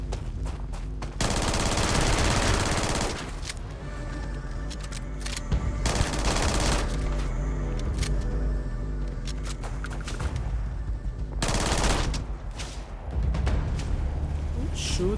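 Bursts of rapid automatic gunfire in the video game Starfield ring out in loud sustained volleys across the clip, with game music and voices underneath.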